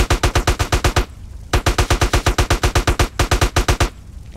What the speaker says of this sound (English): switch to the rifle